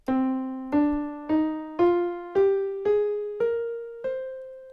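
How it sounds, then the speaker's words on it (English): A minor scale climbs note by note, eight clear sustained tones struck at an even, unhurried pace, each decaying before the next, with no talking. "because a minor scale sounds like this"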